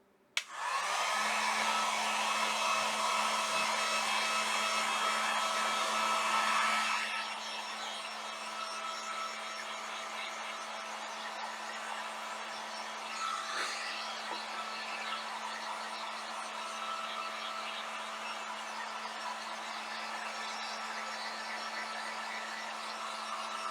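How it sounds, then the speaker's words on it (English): A heat gun blows hot air to dry paint on a home decor craft piece, a steady close whooshing hum that starts abruptly, runs loud for several seconds, then drops to a lower setting and continues evenly. "now I'm getting my dry heat gun out, and I'm going to just dry this real good"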